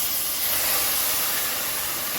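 Pre-warmed beef bone broth hitting a hot risotto pan, a loud, steady broadband sizzle and hiss that holds evenly for a couple of seconds with no talking.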